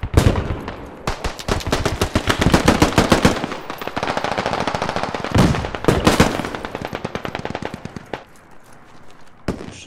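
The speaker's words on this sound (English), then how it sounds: "Shots." Dense automatic gunfire in the tactical shooter game Squad, with long rattling bursts and sharp single shots. They are loud and close and run almost continuously, with brief gaps.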